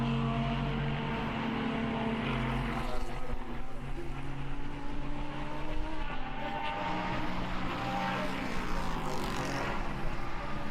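KTM race cars in the GTX class battle at the Brno circuit during an endurance race, engines droning loudly and continuously with shifting pitch as the cars pass, no voices heard.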